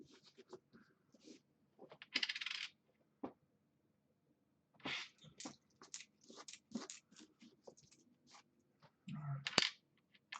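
Coins drop and clatter out of paper coin rolls, scattering in irregular bursts of metallic clinks and rattles with quiet gaps between them, close and fairly faint, no talking.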